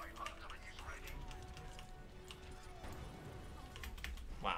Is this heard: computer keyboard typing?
yes